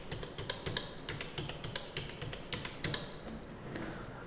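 Fingers tap quickly on a computer keyboard, entering a customer's Aadhaar number for a bank fund transfer. The keystrokes come in a brisk, continuous, close-up clatter over a faint background hum.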